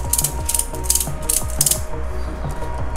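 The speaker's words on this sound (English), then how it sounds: "begin to ratchet it." A ratchet strap for a homemade suspension trainer is cranked tight, giving a quick series of sharp clicking ratchet strokes in an irregular rhythm, close and fairly loud with no talking.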